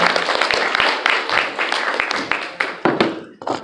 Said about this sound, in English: give me a round of applause for existing and being wonderful